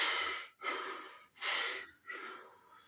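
A person imitates heavy breathing with three long, forceful breaths, close and loud, separated by short pauses.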